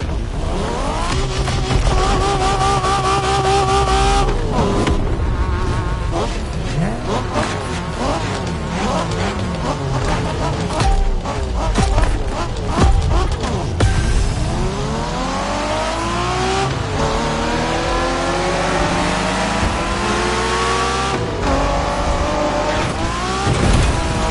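Race cars in The Crew Motorfest, a Japanese street racing event, with engines revving and shifting through rising and falling pitch sweeps, loud and continuous, with tire squeal mixed in.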